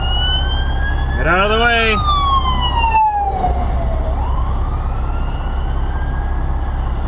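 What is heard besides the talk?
emergency vehicle sirens passing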